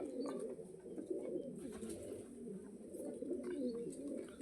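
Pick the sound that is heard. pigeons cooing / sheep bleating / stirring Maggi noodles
pigeons cooing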